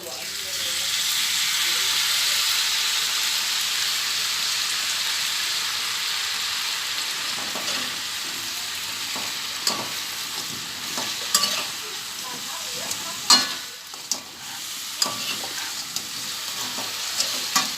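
Fried chicken being stirred in a pan with sweet soy sauce, giving a continuous loud sizzle and hiss with repeated scraping and clacking of a utensil against the pan, growing more frequent toward the end.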